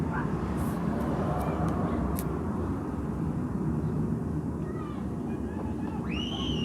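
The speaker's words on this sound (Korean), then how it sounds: "비행기 소리라도 좀 지나가고." An airplane passes overhead with a steady, broad low rumble that holds throughout, while children's voices and shrieks rise faintly in the background.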